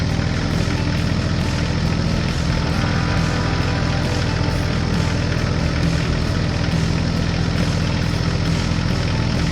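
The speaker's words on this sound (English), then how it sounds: "The tractor moved across the farm toward the field where a smaller tractor was stuck." A classic red tractor's engine chugging on a snowy farm, a steady low, heavy idling drone with a continuous rhythmic throb, close and loud, without talk.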